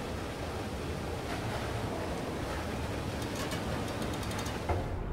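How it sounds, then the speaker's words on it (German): Rising water rushing in the LIMBO video game, a steady broad hiss of flowing, surging water filling the whole stretch at an even loudness, with a few faint clicks near the end. "Dann dürfte das Wasser steigen."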